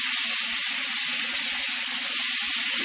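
Tomato slices sizzle steadily in hot seafood-flavored oil in a pan, a dense continuous frying hiss with a few soft low bumps from the pan.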